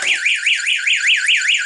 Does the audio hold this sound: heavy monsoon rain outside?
no